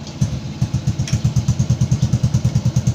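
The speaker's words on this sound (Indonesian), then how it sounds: "Ini sendiri daripada suara mesin." A Honda Supra X125 motorcycle engine fitted with an Akrapovic racing exhaust idles close by, its loud, rapid, even exhaust pulses thumping in a steady rhythm.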